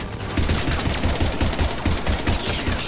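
Rapid automatic gunfire in the video game Mass Effect 3, a steady, loud stream of close shots that runs continuously for three seconds with no pause.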